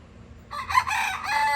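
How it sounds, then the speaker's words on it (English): A rooster crows nearby, one loud drawn-out cock-a-doodle-doo rising over quiet background. "we know Hey Hey's a rooster"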